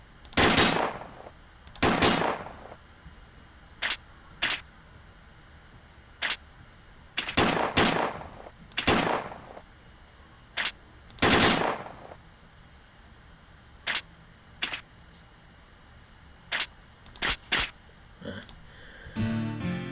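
Gunfire in the Western video game DUST: A Tale of the Wired West: about a dozen sharp, loud shots fired at irregular intervals, some in quick pairs, with no talking.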